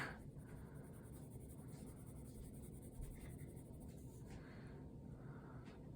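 A graphite pencil shades a spoon drawing on paper, making a steady, close scratchy rasp of strokes that runs throughout with no voices.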